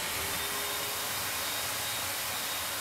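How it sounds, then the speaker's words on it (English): A vacuum cleaner runs continuously nearby, a loud, steady whooshing roar with a faint whine, with no talking. "Turn the vacuum on."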